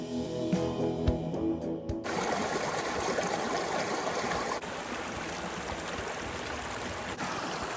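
A river in Rocky Mountain National Park, a steady, dense rushing flow that sets in after about two seconds of mechanical ratcheting clicks, then continues alone and loud.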